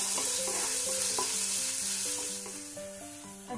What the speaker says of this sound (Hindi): प्याज रखेंगे, और इसे ब्राउन होने तक फ्राई करेंगे।